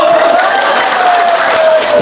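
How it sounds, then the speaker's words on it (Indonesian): Women at a village religious gathering clapping together, dense continuous applause close by with a sustained tone underneath and some voices in the mix. "tepuk tangan semua Bu"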